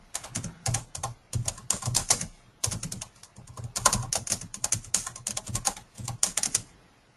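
Rapid keystrokes on a computer keyboard in irregular bursts with short pauses, close and clear, no voices.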